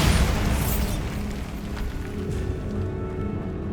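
Bombarda explosion spell cast in the Hogwarts Legacy video game: a loud burst at the start that rolls into a dense, rumbling blast tail, fading slowly over a few seconds.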